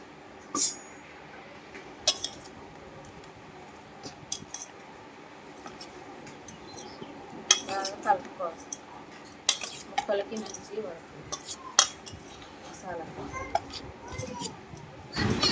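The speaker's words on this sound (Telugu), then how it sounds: "చేప ముక్కల్ని నలగకుండా పీస్ పీస్ కాకుండా ఇలా నీట్గా చక్కగా కలుపుకోవాలి" Korramenu fish pieces are gently mixed by hand in a bowl with ginger-garlic paste, spices and oil, giving soft wet handling noises and scattered clinks of utensils against the dish, with faint background voices.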